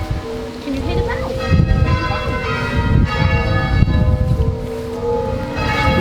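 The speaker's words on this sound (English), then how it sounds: "Can you hear the bell?" Church bells ring on Remembrance Day in a sustained, overlapping peal of clanging tones, fairly loud, over a rustling outdoor background with faint voices.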